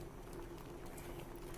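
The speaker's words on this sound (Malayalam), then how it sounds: "അത് തിളച്ചിട്ടുണ്ട്." A pot of sambar simmers on the stove, a faint, even bubbling hiss with soft pops, continuous and close.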